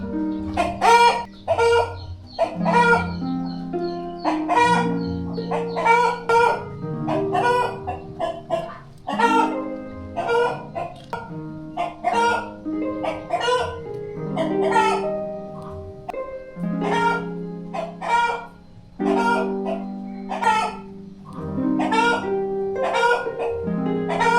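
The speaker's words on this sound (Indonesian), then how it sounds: "Setidaknya ada suara tandingan untuk melawan suara kotekan ayam-ayam ini." Chickens cluck and squawk continuously and loudly close by in a village in Kemantan Hilir, Kerinci, Indonesia, with a rooster crowing in between; music plays faintly underneath.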